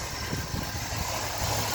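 A 2006 Chevy Tahoe Police Interceptor V8 idles steadily under an open hood outdoors in cold wind, giving a low continuous rumble with a faint mechanical vibration and wind noise in the background.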